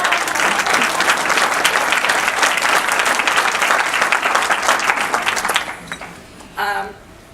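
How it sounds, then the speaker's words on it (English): Audience at the 2016 IQLA event giving loud, sustained applause that rolls on for several seconds before tapering off, with a brief burst of voices near the end. "I think you should stand up and give an applause"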